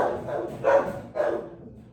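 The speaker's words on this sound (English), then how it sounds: "Do you hear these barks?" A dog barks a few times in a row, three or four moderately loud barks spaced unevenly over a couple of seconds, with no voices.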